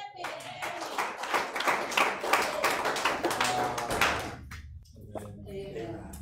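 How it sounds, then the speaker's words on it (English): A church congregation claps hands together in a dense burst of applause lasting several seconds during a sermon, then it thins out and fades to a few scattered claps. "Give him a hand clap."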